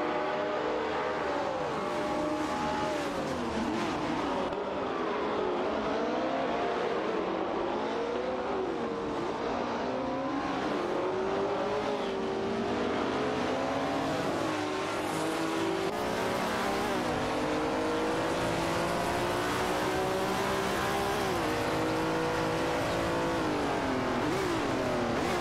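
Racing cars, a Porsche and a Ford GT40, howling through a racing video game, with engines revving up and down continuously and overlapping, loud and steady throughout.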